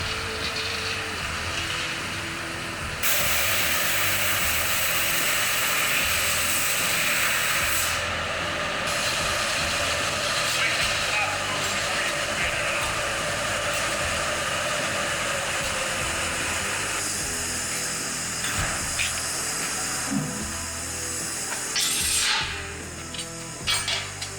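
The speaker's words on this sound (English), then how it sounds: "With the design locked in, it's time to hit the machines and bring this bracket to life, cutting it, shaping it, and getting every detail right." Machine shop work cutting and shaping a custom metal bracket for a car rebuild, a steady loud grinding, hissing roar that runs almost unbroken for over twenty seconds with brief shifts in tone and a few sharper scrapes near the end.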